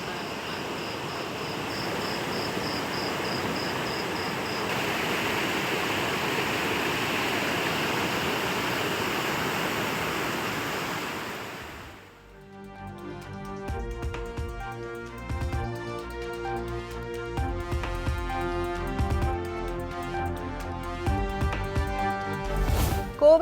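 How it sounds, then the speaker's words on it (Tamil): Panchalinga falls near Tiruppur in heavy flood, a dense continuous roar of rushing water for about twelve seconds, then giving way to steady background music. "தொடர் கனமழை காரணமாக திருப்பூர் பஞ்சலிங்க அருவியில் கடும் வெள்ளப்பெருக்கு"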